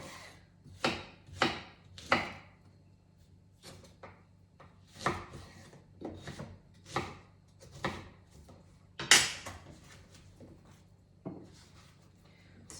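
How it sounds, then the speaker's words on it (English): Small apple being cut into chunks with a knife on a board: a series of sharp, close chopping knocks, irregularly spaced, about a dozen strokes, with quiet pauses between. "So I'm just cutting this little apple in half and then into small chunks, the same as the pear"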